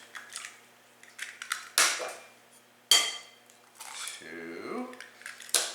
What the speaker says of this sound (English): Then crack 2 large eggs into a large bowl.